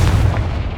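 Confringo fire spell blast in Hogwarts Legacy, a loud, close booming burst with a heavy low rumble that fades quickly.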